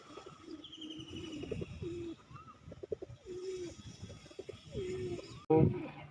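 Pigeons coo steadily in low, throaty rolls, several birds overlapping close by, with faint chirps above and a brief louder flutter near the end.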